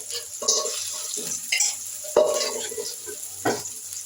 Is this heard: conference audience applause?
no